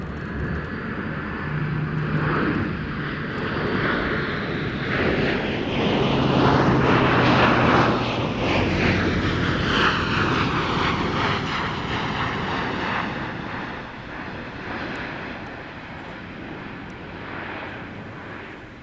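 An Airbus military transport aircraft flies a display at an air show. Its loud engine roar swells as it passes close overhead, with a sweeping, shifting tone, then slowly fades as it moves away.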